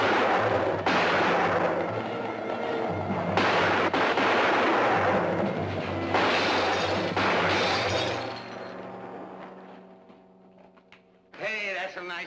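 Several loud gunshots ring out in a western outdoor scene, sharp cracks with long echoing tails over a bed of noise and music, which dies away to near quiet before a final sharp burst.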